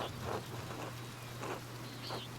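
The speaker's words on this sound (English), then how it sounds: "The rain is turning everything to mud." Steady rain in the game Pentiment, a soft continuous hiss of falling drops under a low hum, with faint bursts of louder patter coming and going.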